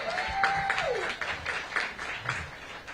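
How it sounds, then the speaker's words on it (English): Applause for Mayor Bowser at a shop grand opening, a moderate crowd clapping steadily and fairly softly, with a brief whoop or voice near the start. "let's give Mayor Bowser a round of applause"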